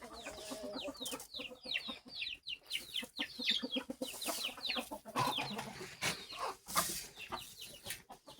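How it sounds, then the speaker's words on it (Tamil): Chickens just released from their coop cluck busily and close by, a dense, overlapping chorus of short clucks and squawks. "இங்கே பாருங்க, கோழி திறந்து விட்றாரு பாருங்க."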